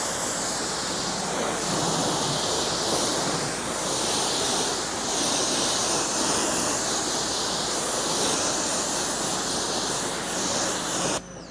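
Water hose rinsing a car after Meguiar's Hybrid Ceramic Wax is applied, a steady loud hiss of spraying water running without a break and cutting off at the end.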